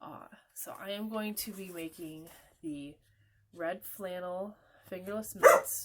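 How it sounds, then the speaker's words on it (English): Several dogs bark in short bursts somewhere in the neighbourhood, partly buried under a person talking steadily nearby. "Really sorry about the dog barking."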